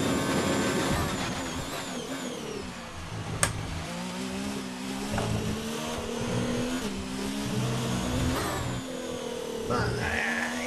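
Racing car engine from the F1 2019 video game at the Abu Dhabi Grand Prix, a continuous loud whine rising and falling through gear changes, with a commentator talking over it.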